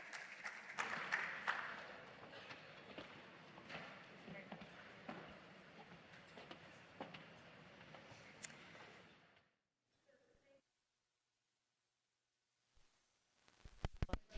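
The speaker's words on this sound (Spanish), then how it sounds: "Un aplauso." Applause from a conference audience at a Patterson Institute session on the future of regulation, a busy clapping texture for about nine seconds, fairly faint, then cutting off into near silence with a few brief noises at the end.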